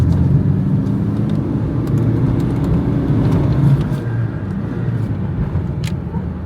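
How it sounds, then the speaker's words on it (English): A Ford Fiesta Mk2 engine hums with a low, steady rumble from inside the car, and a slight swell suggests a light throttle blip amid road noise. "See what I mean about you blip your throttle a little bit?"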